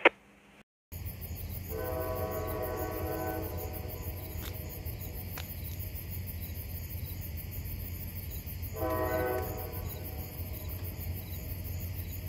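A CSX freight train passes in the open, its horn sounding loud in two long blasts with a later repeat, over a steady rumble of rolling wagons and chirping crickets.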